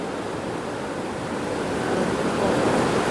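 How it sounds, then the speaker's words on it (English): Bridal Veil Fall in Yosemite roars with a continuous broadband rush of falling, spraying water, steady and loud close by, building slightly toward the end with no voices. "This is Bridal Veil Falls, which is Bridal Veil Fall as they call it here"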